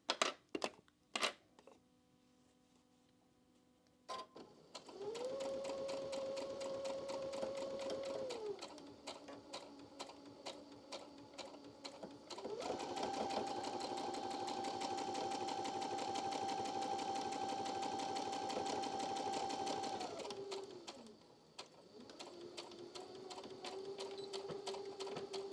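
A sewing machine stitches a medium pumpkin-pattern harvest quilt with its seam guide, running in steady sustained bursts that pause and restart, with no talk over the machine.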